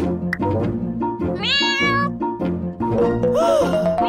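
A cartoon kitten meows several times in a row, high and sliding, close and clear over a light musical background.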